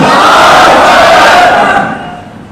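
A large religious gathering roars back a loud, unified chant in answer to a takbir call, many voices shouting together up close before the cry fades away over its last second.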